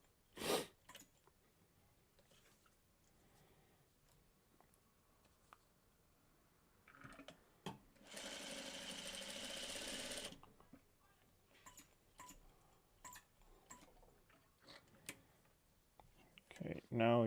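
A sewing machine top-stitches a Dresden plate appliqué, running in one steady mechanical burst of about two seconds with scattered clicks of handling before and after.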